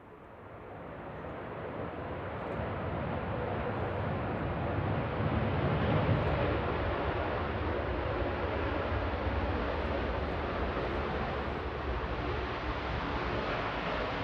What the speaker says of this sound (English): It's the A380.